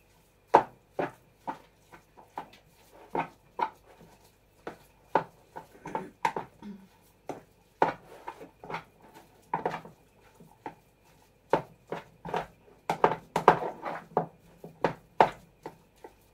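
Ingredients with a pinch of salt, sugar and an egg being mixed in a bowl, a utensil tapping and knocking against the side in irregular clinks, sparse at first and then quicker and busier toward the end.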